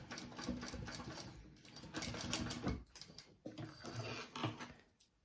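A sewing machine top stitches a bag in short rapid bursts of mechanical clatter, with pauses between runs, close and moderately quiet.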